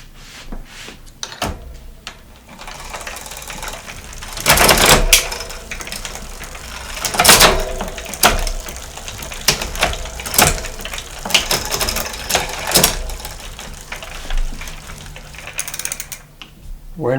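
Old bicycle grip index shifters being twisted to work a derailleur, giving bursts of ratcheting clicks and whirring gear mechanism sounds at close range, spaced irregularly with no talk.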